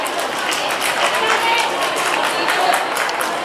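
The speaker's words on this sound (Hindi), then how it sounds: "इनके लिए जोरदार तालियां बजा दीजिए।" Students at a girls' school award ceremony get applause: a crowded hall fills with loud, continuous clapping from many hands, with some crowd murmur mixed in throughout.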